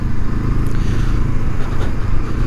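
Honda CL500 Scrambler twin exhaust running steadily up close, a dense low rumble holding at an even level throughout with no voices.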